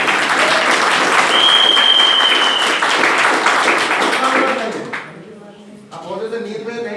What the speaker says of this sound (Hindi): एक बार जोरदार तालियां सबके लिए।